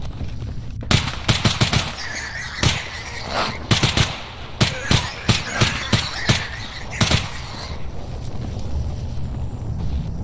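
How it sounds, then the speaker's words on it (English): Repeated gunshots in the video game Stalker Anomaly, fired in sharp bursts and single blasts over roughly ten seconds, loud and close against a steady background rumble. "how can't I hit them with the shotgun?"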